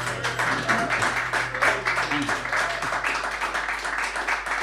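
Audience applause after a live performance, steady dense clapping from a crowd throughout, fairly loud and continuous with no voices over it.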